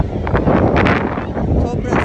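Strong wind batters the microphone on a high seaside cliff in a constant loud roar, gusting unevenly, with a voice faintly mixed into the noise.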